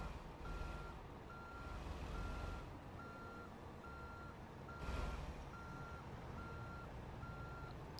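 A Kenworth W900 truck in American Truck Simulator gives off a steady run of evenly spaced reversing beeps over a low engine rumble, with a brief swell of air or engine noise partway through.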